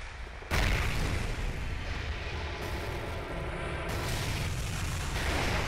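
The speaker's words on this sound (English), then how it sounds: "you're gonna have to experience the explosion again" A loud explosion in the video game F.E.A.R. Extraction Point hits suddenly after a short quiet start, then a dense roaring rumble with further blasts keeps going to the end.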